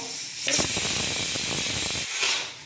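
Rasam comes to a light boil in a pot, giving a loud, steady hiss with bubbling crackle in the middle and a brief quieter moment near the end, with no talk.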